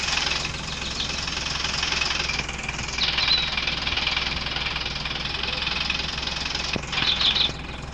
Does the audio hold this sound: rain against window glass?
no